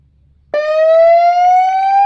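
A Bluetooth motorcycle speaker with a police-escort style horn sounds its ambulance-like siren alarm mode: a loud, steady electronic tone slowly rising in pitch, starting abruptly after a short quiet moment and running alone.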